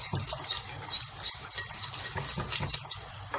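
A potato béchamel filling with milk being mixed, with quick, close, rhythmic stirring and scraping of a utensil against a pot or bowl, continuous and fairly loud throughout.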